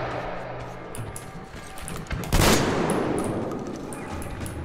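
A burst of gunfire from a weapon in the video game Metro Exodus, one loud sharp blast with a brief echoing tail, heard amid a steady background of game ambience and faint rumbling.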